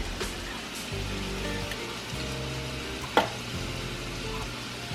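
A pan heating on the stove before beef soup, or goulash, is cooked gives off a steady, faint hiss and light sizzle, with one sharp click partway through and no talking.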